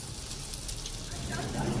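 Steady frying hiss from oil pitha cooking in hot oil in a home kitchen, a continuous dense crackle building slightly louder toward the end, with faint voices in the background.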